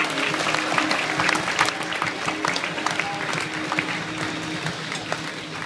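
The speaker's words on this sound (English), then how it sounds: "Round of applause for your food and beverage manager, Mark." A cruise ship audience applauds the food and beverage manager on board, a loud, full burst of clapping that thins slightly toward the end, with no talking.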